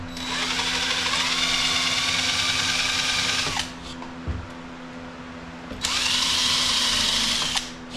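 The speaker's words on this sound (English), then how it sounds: "basically just going to try to pre-drill it a little bit so it don't split" A power drill whines steadily as it pre-drills holes in dry cedar to keep the wood from splitting, two long close bursts separated by a short pause with a brief clunk between.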